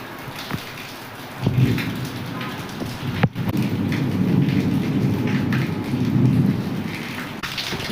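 Steady heavy rain pours outdoors with gusting wind through neem trees, a dense close hiss broken by a sharp thunder crack about a third of the way in, followed by rumbling swells.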